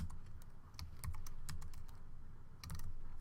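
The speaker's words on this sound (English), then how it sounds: "I could type in the whole word if I want." Clicky keystrokes on a computer keyboard while entering words into an online form, a steady irregular run of close taps with brief bursts of quicker presses and no voices.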